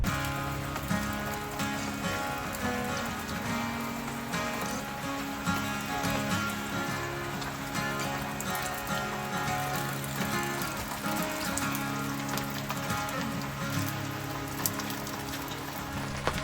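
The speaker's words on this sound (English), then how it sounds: "Okay, so it's starting to rain now." Rain beginning to fall at a campsite in Black River Wilderness Park, a soft steady patter of drops on surfaces, continuous and fairly faint, with a low hum underneath and no clear talking.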